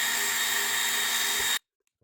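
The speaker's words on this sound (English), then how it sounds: "We're going to make some thread holes." A power tool drills and threads screw holes in a Spirit Halloween Ghostbusters ghost trap DIY kit, a steady high whine running continuously for about a second and a half and then cutting off abruptly into silence.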